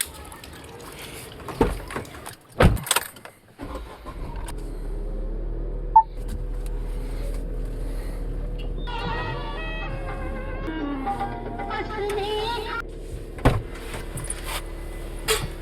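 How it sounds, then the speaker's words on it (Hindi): A car is taken out during light rain, with a few door thumps and clatters, then a steady engine rumble running underneath and a whining mechanical tone rising over it partway through. "चलो गाड़ी निकालते हैं।"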